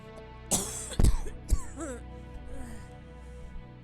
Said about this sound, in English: I think I just coughed in your hair.